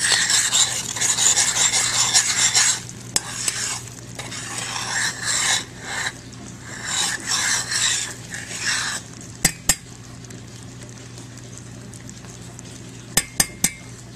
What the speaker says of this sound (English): Stirring occasionally.